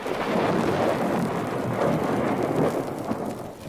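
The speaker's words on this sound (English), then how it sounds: "that tree cut in half clean as a whistle just where I was standing before you pulled me away" A dramatized lightning strike splits a tree, heard as a loud, sustained rumbling crash like close thunder, with no voices.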